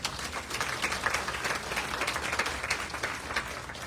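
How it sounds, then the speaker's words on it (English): Audience applause for a store staff member, a short burst of steady clapping from a small crowd, fairly close and even for a few seconds. "Let's give her a round of applause"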